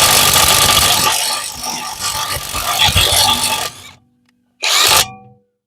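A Parkside Performance PPDSSA 20-LI A1 600 Nm cordless impact wrench on setting B loosening a bolt, a loud close rattling hammer run of several seconds, then a brief second burst after a short pause.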